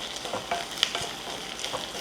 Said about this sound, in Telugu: మంచిగా ఫ్రై చేసుకొని అల్లం వెల్లుల్లి పేస్ట్ యాడ్ చేసి